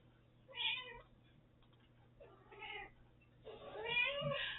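A cat meows three times, each call drawn out and fairly close, with short quiet gaps between and the last one the longest and loudest, against a low steady hum.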